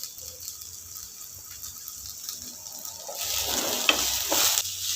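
Chopped onions, green chillies and finely cut ginger with salt sauté in a pan on a low flame, a soft sizzle that swells louder near the end as the mix is stirred, with no speech.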